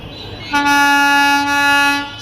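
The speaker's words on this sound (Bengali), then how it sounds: "আপনারা দেখতে পাচ্ছেন একটি ট্রেন, এটি রাজবাড়ী রেল স্টেশনে প্রবেশ করবে" A shuttle train on the Daulatdia to Poradah line sounds one loud, sustained horn blast of about a second and a half as it enters Rajbari railway station, with a low rumble beneath.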